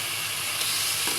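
Tomato hits a pan of frying sing fish, giving a short burst of steady hissing sizzle with faint stirring underneath, close and without talk.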